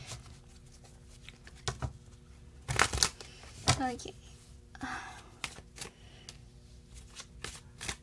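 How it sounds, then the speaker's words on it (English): Tarot cards shuffled by hand in a quiet room during a card reading, giving soft riffling and papery flicks in short bursts spread across the stretch, with a brief spoken word and a few breaths near the start. "Another shuffle, they say."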